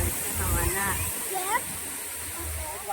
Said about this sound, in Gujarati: આ છે ધોધ.